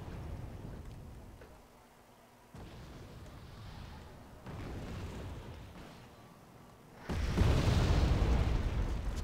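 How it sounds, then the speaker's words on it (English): Cluster bombs exploding on houses in Wargame: AirLand Battle, heard as a low, rumbling series of muffled booms that builds into a louder, sustained roar of blasts near the end. "Cluster bombs dropped on these houses"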